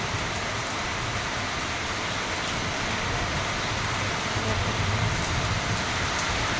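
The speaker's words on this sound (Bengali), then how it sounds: "কি বৃষ্টি নেমেছে রে বাবা" Heavy rain pours steadily on a monsoon day, a dense, continuous broadband roar at even loudness throughout, with no voices.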